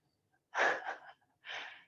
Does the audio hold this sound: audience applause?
no